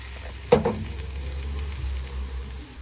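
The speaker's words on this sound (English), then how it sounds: "Listen to that sizzle." Steaks seasoned with Worcestershire sauce land on a very hot grill with a sharp hit, then a steady soft sizzle continues alone.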